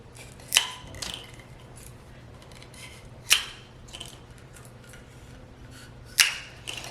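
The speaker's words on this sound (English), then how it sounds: "I think I need to cut some more of my straws." Scissors snipping through plastic drinking straws for a children's craft project, three sharp, isolated cuts spaced a few seconds apart over a quiet room with faint background hum.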